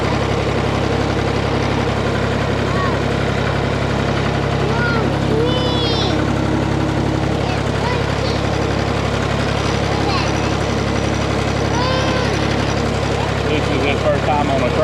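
A farm tractor's engine runs steadily at a low idle-like drone for the whole stretch, loud and close, while a small child rides aboard and voices chatter and call out faintly over it.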